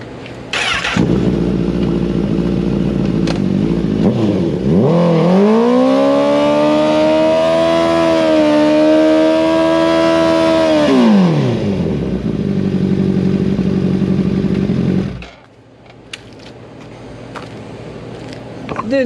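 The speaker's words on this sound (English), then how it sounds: "Let's scuff in this new tire." Honda CBR1000RR Repsol sport bike on a dyno, engine revving hard for about ten seconds to scuff in a new tire, with a rising and falling whine over steady loud mechanical roar before dropping to idle.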